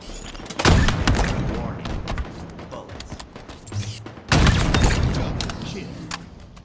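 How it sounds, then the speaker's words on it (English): Sniper rifle shots in a capture-the-flag video game, two loud booming reports with rumbling tails a few seconds apart, under a commentator's voice. "Nice snipe shot on that guy"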